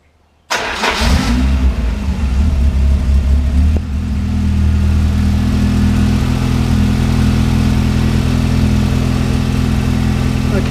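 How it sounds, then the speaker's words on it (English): A car engine starts abruptly and then runs steadily, its low hum building and holding at a higher pitch as the revs rise, loud and close, with no talk over it. "I'm going to rev the engine up."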